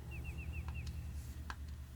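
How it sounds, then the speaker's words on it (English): In the PS1 video game Clock Tower, a quick run of five high, rising bird chirps, then a couple of soft clicks, all over a steady low droning hum. "You hear the birds chirping?"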